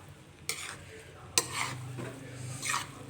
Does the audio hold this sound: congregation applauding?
no